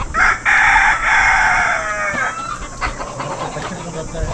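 A rooster crows loudly and close at a chicken farm of local desi hens in a hilly area of Saudi Arabia, one long drawn-out call followed by softer clucking from the flock.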